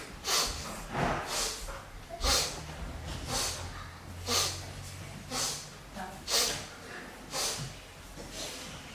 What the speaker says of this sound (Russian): И на каждый поворот шмыгаем.